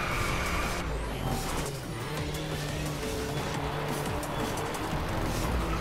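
A car drifting in a racing video game, with a continuous engine drone and sustained tire skidding that run loud and steady throughout, no voices over it.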